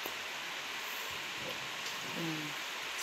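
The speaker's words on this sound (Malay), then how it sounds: "Hari lagi hujan." Rain falls steadily during the rainy season, a constant even hiss of drops with a few faint tones mixed in and no clear voices.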